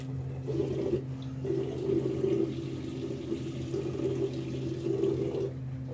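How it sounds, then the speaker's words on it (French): A sponge is rinsed under a steady stream of lukewarm tap water running into a sink, a continuous close splashing and hissing flow. "quand on le rince, alors il faut le rincer à l'eau tiède"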